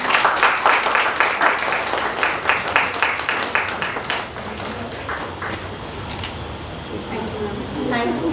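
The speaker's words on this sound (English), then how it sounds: "A huge round of applause." A Women's Day celebration audience claps for an honoree, brisk and full at first, then thinning and fading midway as the crowd settles, with a few scattered claps and murmurs returning near the end.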